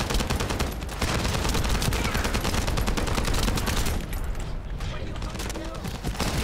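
Gunfire in a sci-fi shooter video game: dense, continuous bursts of rapid automatic shots and booms filling the mix, easing briefly midway, with game noise throughout.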